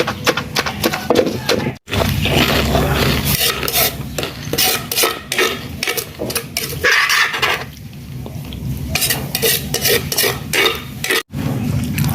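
Pork belly tossed with yanang leaf juice for a bamboo shoot dish, loud close scraping and wet stirring strokes in an irregular rhythm, with two brief pauses.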